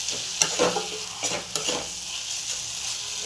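Egg and capsicum curry sautés in oil in a pan, a continuous close sizzle with a few quick stirring scrapes and clinks in the first two seconds, no talking.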